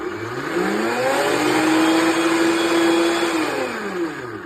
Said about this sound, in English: you could do this with a normal blender